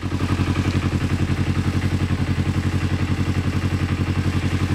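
An engine idles after a cold start, a close, steady, rhythmic chugging with even pulses and a light mechanical clatter.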